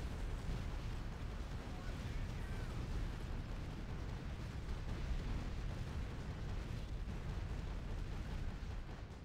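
In the video game Art of War 3, five Zeus units fire on a Cerberus, producing a dense, continuous roar of blasts and rumbling explosions that fills the whole stretch at an even loudness.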